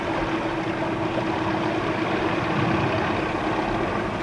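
A boat engine drones steadily with a low, continuous rumble and a faint tonal hum, unchanging throughout.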